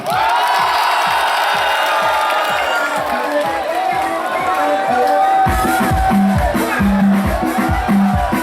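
A concert crowd at a tropical music celebration in Lomé cheers and shouts over loud rhythmic music, with whoops rising above the pulsing beat and clapping mixed in.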